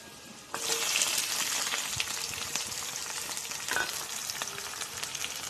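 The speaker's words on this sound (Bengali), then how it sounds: "আলু ভাজা হচ্ছে" Potato pieces frying in hot oil in a pan: a sudden loud, close hiss of sizzling bursts in and holds steady, with a few brief stirring clatters along the way.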